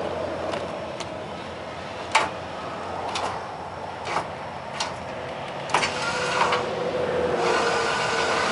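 Power stabilizer jacks on a Cruiser Crossroads fifth wheel camper clicking and thumping in a string of short, separate mechanical knocks over a steady motor hum, moderately close, with no talking.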